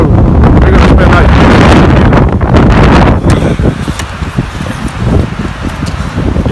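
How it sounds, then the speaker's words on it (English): Strong winter windstorm gusts around a Polish military lavvu tent, a loud roaring rush that peaks and then drops to choppier flapping buffets against the microphone. "I wouldn't say snowstorm, but windstorm for sure."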